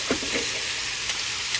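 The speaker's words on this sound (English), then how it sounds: "Now we're going to fry these off here" Chicken pieces fry in hot oil with a continuous bright sizzle and crackle, a close steady hiss with a few soft bubbling pops, no talking.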